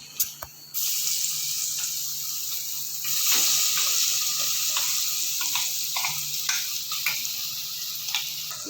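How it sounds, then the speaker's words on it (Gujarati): Asafoetida and coriander paste hitting hot oil with mustard seeds and cumin in a pan, giving a steady loud hiss and sizzle that runs throughout after a brief quieter start, with light clicks and scrapes. "આપણે આ જે પેસ્ટ બનાવી હતી ધાણાની એ નાખી દઈશું."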